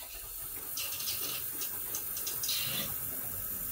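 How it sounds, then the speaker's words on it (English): Water rushes through the pipework of a Pelican whole-house water filter after its flow valve is cracked open, giving a steady, close hiss of flow with faint gurgling bursts on top and no talk. "Now we're going to crack open the flow valve again"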